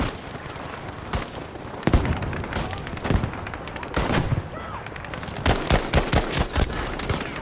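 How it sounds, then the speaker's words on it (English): Gunfire in the video game Battlefield V, War in the Pacific, with rapid irregular rifle and machine-gun shots and heavier blasts crackling close and loud, while a voice talks among the bursts. "You getting shot at! You getting shot at!"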